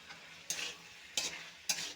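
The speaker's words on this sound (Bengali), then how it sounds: "ভালো করে মিশিয়ে এটা একটু ভাজা ভাজা করে নেব" Cumin and coriander powder frying in a pan, with three sharp scraping stirs over a quiet, low sizzle.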